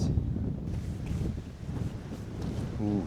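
Wind blows across the microphone at Staigue Fort, an ancient stone ring fort on the Ring of Kerry, a moderate rushing noise with faint footsteps on stone and brief low murmurs.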